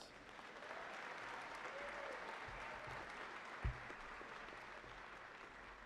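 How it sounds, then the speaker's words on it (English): An audience at the East High School 2018 graduation ceremony keeps up steady, even applause, a soft, continuous wash of clapping heard from a distance, with one brief thump partway through. "another big round of applause."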